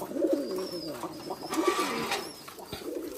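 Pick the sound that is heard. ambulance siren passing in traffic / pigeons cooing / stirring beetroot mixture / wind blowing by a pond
pigeons cooing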